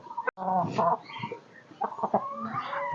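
Chickens on a chicken farm cluck and chatter in short, uneven bursts close by, with brief pauses between calls and a quiet farmyard background.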